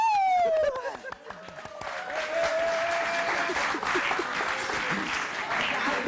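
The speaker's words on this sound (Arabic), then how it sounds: "يلا صفقوا على نزهة." Studio audience applauding on a Moroccan TV talk show for guest Nezha, steady broadband clapping that swells after a brief dip, with a rising-and-falling whistle-like tone and some voices underneath.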